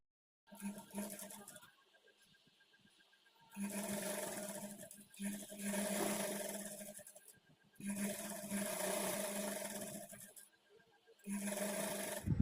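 A sewing machine stitches the lining of a kids' peplum blouse at a half-inch margin, running in three long whirring bursts separated by short pauses, close and steady with no talk.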